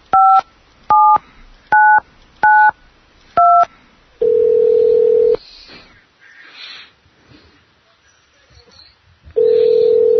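Five clear two-tone DTMF keypad beeps entered into a state office's automated phone line, evenly spaced, then a long steady phone tone, a quiet gap with faint noise, and the tone again.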